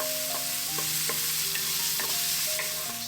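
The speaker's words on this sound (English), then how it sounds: "So I will just saute it with some spices, then we will add the pork." Garlic and onions sauté with spices in a pan for a pork siopao filling, making a soft, continuous sizzle broken by scattered stirring scrapes, fairly quiet and with no voices.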